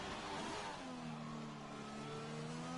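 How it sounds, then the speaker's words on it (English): A McLaren Formula 1 car in the F1 2020 racing game howls through a flying lap at Singapore, its engine note holding high and shifting pitch as it accelerates, steady and prominent with no voices. "we've got a McLaren to the line, and I believe that is Ryan Webb starting his flying lap"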